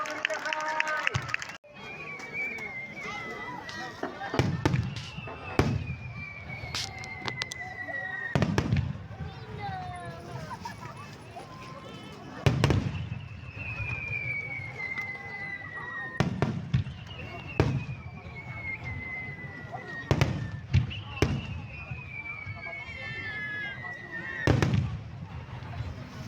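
Fireworks at the Fukushima city fireworks festival: a series of loud booming bursts recurring every few seconds, with whistling rising shells between them and a crowd murmuring and talking underneath.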